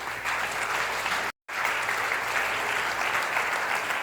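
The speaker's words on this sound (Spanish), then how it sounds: "vamos a darle un aplauso a Jesús" A church congregation applauds in a steady, dense wash of clapping, sustained and loud, broken by one brief cut to silence before resuming.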